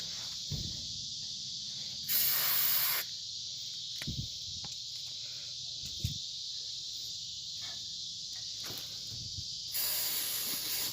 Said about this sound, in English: Spray enough on that.